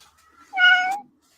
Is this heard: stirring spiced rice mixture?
no